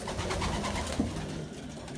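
Racing pigeons coo softly and continuously, close by, over a dense, busy background.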